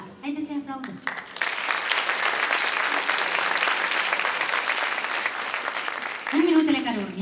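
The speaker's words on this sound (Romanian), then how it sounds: "Haideți să-i aplaudăm!" Audience applause at a folk dance gala show, marking the 50th anniversary of the Zalău folk school of arts and crafts, swells into a sustained, loud wave of clapping, framed by an announcer speaking before and after.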